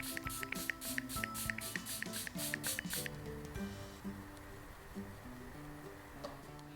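L'Oreal setting spray misted in a quick series of about nine short, sharp pump bursts over soft background music, then the music carries on alone.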